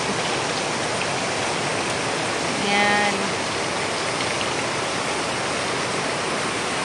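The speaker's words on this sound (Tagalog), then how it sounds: "Wow, adakas na ulan guys." Heavy rain pouring down on rice paddies as a dense, loud, steady hiss that fills the whole stretch, with a brief spoken word partway through.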